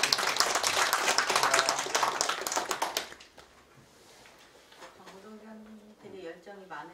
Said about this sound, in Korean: 열심히 해주시는 시장님한테 박수로다가 한번 해주시고요